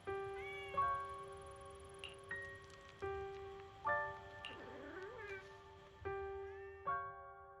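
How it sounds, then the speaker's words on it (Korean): A cat meows again and again in the video game Zenless Zone Zero, with a string of short, close, fairly loud meows at a steady pace and no talking over them. "저쪽에 고양이가 있는 것 같아."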